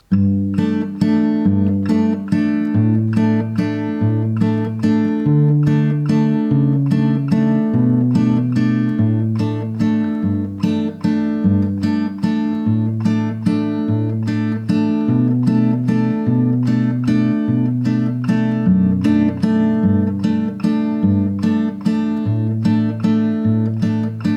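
Strummed acoustic guitar chords ring out in a steady, repeating rhythm, loud and close, with a low bass note anchoring each bar and no voices.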